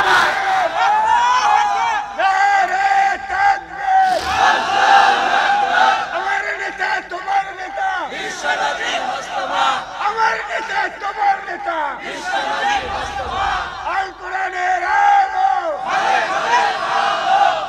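A large rally crowd roars slogans back in unison, repeated surging chants alternating with a leader's shouted calls, loud and close.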